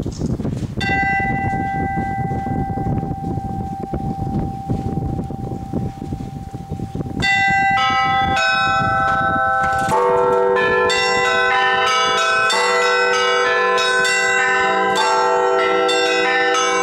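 Church bells ring from a bell tower in the village of Ruza, first a single sustained toll over wind noise, then several bells joining in a dense, overlapping peal that grows louder and fuller.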